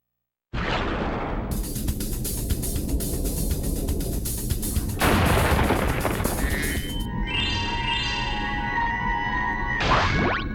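Fireworks go off in Spyro 3: dense crackling bursts and whooshes fill several seconds, then bright whistling tones ring out before a final burst of crackle, all loud and close with no talking.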